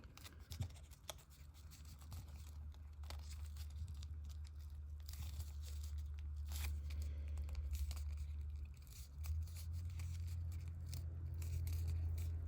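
Crinkling foil while folding an origami F-16 Fighting Falcon jet, soft irregular crackles and small crunches close up over a low steady hum, fairly quiet throughout.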